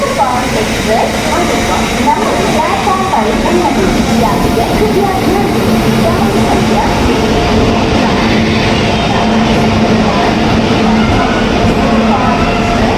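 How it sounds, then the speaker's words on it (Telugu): The Shirdi–Tirupati special train rumbles steadily into a station platform with a low engine drone and rail noise, loud and continuous throughout, with voices mixed in. "మా ప్లాట్ఫామ్కి అయితే ట్రైన్ వస్తుంది అనమాట."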